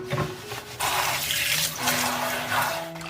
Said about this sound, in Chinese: 然后用清水冲洗干净